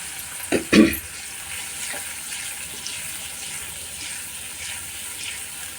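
Two cups of water splash into a hot pan of spiced besan mixture in a short, loud pour near the start, then fade into a quiet simmering background.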